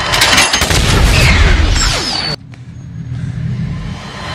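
A loud gunshot-like boom with a sweeping whoosh in an action film scene from Wanted (2008), dense and forceful for about two seconds before cutting abruptly to a quieter, hollow tail.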